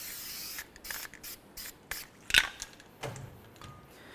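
Several short bursts of hissing copper anti-seize spray onto a wheel hub of a 2002-2009 GMC Envoy come in quick, uneven pulses, close up, with a faint metallic tick among them.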